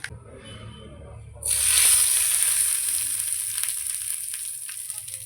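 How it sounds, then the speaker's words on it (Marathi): Hot spice tempering (tadka) with a pinch of asafoetida poured into chutney bursts into a loud, sustained sizzle that starts abruptly and keeps hissing steadily, after a quieter stretch of faint frying. "तर हे आता तडका तयार झालेला आहे ह्याला आपण चटणीमध्ये ॲड करूया"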